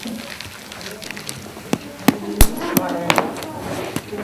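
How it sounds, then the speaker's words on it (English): Sharp knocks and cracks strike hard argan nut shells being broken by hand in the traditional way at irregular intervals, close up, with a voice speaking faintly in the background. "And break the nuts like this."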